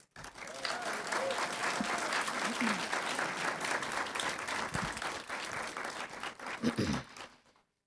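An audience at a civil rights event welcomes a speaker with sustained, dense applause that swells quickly, holds steady for several seconds, then fades out.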